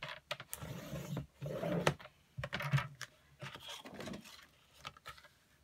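Card stock scored along a marked 1.5-inch line, giving a string of close, scraping strokes that come in short bursts with brief pauses between them.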